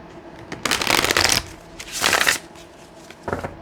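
Tarot cards being shuffled by hand, three crisp riffling bursts separated by short pauses, close and clear with no talking over them.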